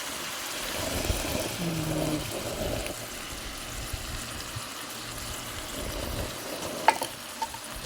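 Food stirred in a pan with eggs, a low continuous sizzle and soft scraping of a utensil, with a couple of brief clinks near the end.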